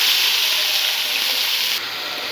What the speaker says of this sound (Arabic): بعد هيك هنضيف شوية زيت نباتي، بعدين هنحط عليهم اللي هو دليات الحبش المقطعين